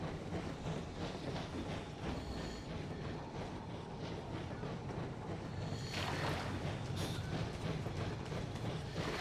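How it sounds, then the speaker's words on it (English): Train rolling past in the video game Metro Exodus, a dense continuous rumble and rushing roar that swells and brightens partway through, loud and close with no talk. "Hear a train or something."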